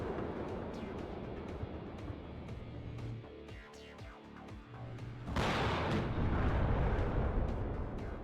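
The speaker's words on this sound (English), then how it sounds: "And smart artillery play here." Artillery fire in the real-time strategy game WARNO: a low rumbling bombardment with scattered booms, then a sudden loud blast about five seconds in that gives way to heavy sustained roaring explosions.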